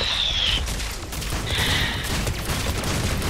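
Rapid gunfire in Mass Effect 3 during a Clan Legion platinum round crackles steadily in dense bursts, mixed with high electronic whines of weapon and shield effects.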